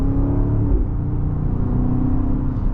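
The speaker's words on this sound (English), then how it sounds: "Let's do a little bit of an accel pull here." A 2024 BMW X5 M60i accelerates hard in sport mode on a road, its engine a loud, continuous low rumble and rising whir heard from inside the cabin.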